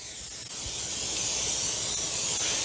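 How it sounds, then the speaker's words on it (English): A steady, close hiss of an aerosol cooking oil spray onto a waffle iron runs without a break, growing slightly louder, with no voices. "give this a real good spray with oil"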